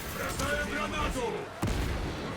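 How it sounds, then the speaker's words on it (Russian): A grenade blast in a Warhammer video game: one sharp, loud boom cuts through a dense wash of battle noise, with a voice speaking over the din. "Бросаю гранату!"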